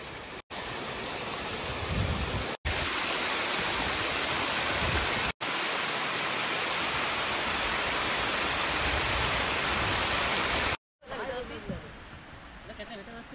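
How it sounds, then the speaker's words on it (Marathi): A waterfall beside a river roars as a loud, steady wash of rushing water that fills the whole stretch, briefly cutting out a few times, with a voice near the end. "आणि बघा आपल्या साईडला मित्रांनो धबधबा कसले भारी आहे ते बघा"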